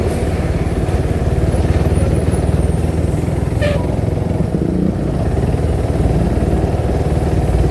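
A Suzuki Satria motorcycle engine runs steadily on a Jakarta street, a continuous mid-pitched drone close by with traffic noise mixed in and no clear pauses.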